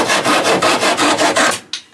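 A hand saw cuts through wood in quick, even back-and-forth rasping strokes, close and loud, then stops. No one speaks.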